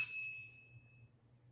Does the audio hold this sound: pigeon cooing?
no